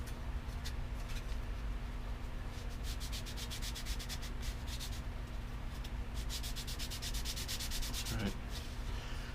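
A wooden propeller blade being sanded by hand, a steady rasping rub with rhythmic strokes that quicken in places, close and continuous with no talking.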